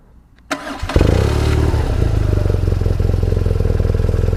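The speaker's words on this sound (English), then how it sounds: "a rumble, rumble, rumble, and a sort of dry engine start in the middle" A new motorbike engine starts with a dry crank and catches into a steady, close, loud idling rumble with a rapid even pulse.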